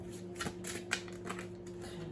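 Tarot cards being shuffled, a quick run of soft papery riffles and flicks, close and fairly quiet over a faint low hum.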